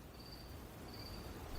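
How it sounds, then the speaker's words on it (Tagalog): Crickets chirp at night outside in a quiet village, a faint, steady high trill running on through a soft wind hiss with no voices. "Tanging huni lang ng mga kuliglig at ihip ng hangin ang maririnig mo sa labas."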